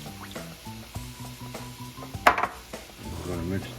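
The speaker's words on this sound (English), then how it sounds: "We're going to mix that up a little bit. This is going to become the marinade." A spoon clinks and scrapes in a bowl as a marinade of vinegar, sugar and soy sauce is stirred for sweet and sour pork, giving quick close taps and one sharper clatter, with light background sizzling.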